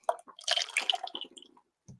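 Lye water is poured into soap oils while making cold process soap: a close, brief run of splashing and trickling liquid, with a final small drip after a pause.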